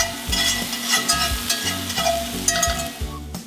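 A prime NY steak searing in a hot skillet: a steady, loud crackling sizzle close by, with a low repeating rumble beneath it and a few sharp pops; no talking.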